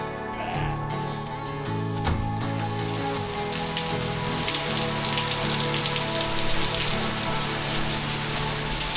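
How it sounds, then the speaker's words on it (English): Heavy rain pours steadily during a Delhi-to-Goa trip, a dense, continuous hiss of drops drumming on surfaces, with a faint tonal hum running underneath. "Man, it's really pouring."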